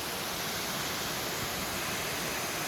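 Kolapathana waterfall roaring as a dense, unbroken broadband rush, close and loud, with no voices.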